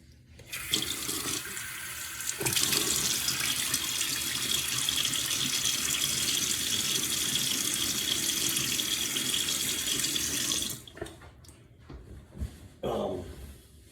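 A bathroom tap runs steadily into a sink for about ten seconds while water is splashed onto a face before a shave, close and fairly loud, then shuts off and is followed by faint splashes.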